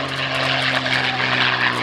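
A North American P-51D Mustang named "Quick Silver" roars past at an air show, its piston engine and propeller giving a loud, steady, close drone that holds the whole time with no voices.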